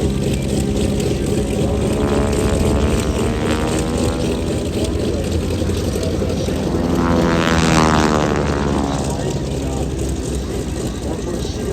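A Boeing PT-17 Stearman biplane's propeller engine drones loudly and steadily at an airshow, with a rising and falling Doppler sweep as it passes close by, under faint announcer talk.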